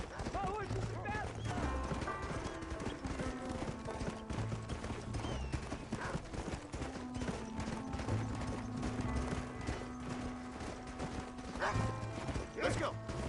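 Steady rhythmic hoofbeats of a galloping horse in the video game Red Dead, with a whinny, over game music and brief talking.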